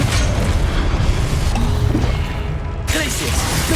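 Confringo blasting spell going off in a Harry Potter video game: a loud, booming burst of crackling noise that fills the clip, with a sharp renewed crash near the end.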